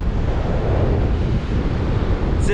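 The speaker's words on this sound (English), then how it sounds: "we're gonna see if the camera picks up a lot of wind noise" Strong wind buffets a camera microphone on a beach on Galveston Island along the Texas Gulf Coast at night, a loud, steady low rumble of broadband noise that fills the whole moment with no voices.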